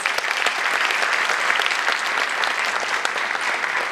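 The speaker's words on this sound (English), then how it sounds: "I think he deserves a huge round of applause." Dense, continuous applause from an audience honoring a university provost, a loud, even roar of clapping that holds steady throughout.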